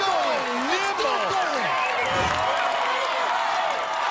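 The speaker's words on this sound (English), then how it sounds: "The crowd chanting Riles" A dense crowd cheering and chanting for contestant Riles at an American Ninja Warrior 2017 competition, loud and continuous with whoops and whistles rising above, while a commentator talks over it.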